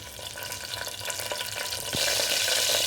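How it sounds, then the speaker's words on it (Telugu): Cardamom pods and cloves fry in hot oil for veg biryani, giving a dense, continuous sizzle that grows louder toward the end, with faint stirring clicks and no voices. "ఆయిల్ 2 యాలకులు లవంగాలు వేసుకోవాలండి"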